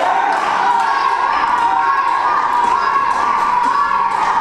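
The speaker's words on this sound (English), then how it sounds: "Fans here cheering for Harker" Wrestling fans in an arena cheer and shout in a loud, continuous crowd roar, with scattered whoops and a few thuds.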